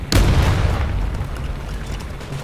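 A single heavy tank cannon shot in the video game War Thunder, a loud close boom at the start that trails off into a long rumbling decay.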